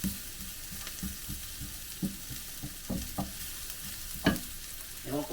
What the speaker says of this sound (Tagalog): Gigisa lang natin yan oh.